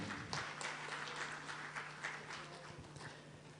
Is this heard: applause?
yes